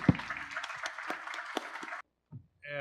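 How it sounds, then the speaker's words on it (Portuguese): Audience applause at a public security seminar, a short burst of moderate clapping from a room that stops abruptly, followed by faint noises and a brief tone. "Peço uma salva de palmas para todos."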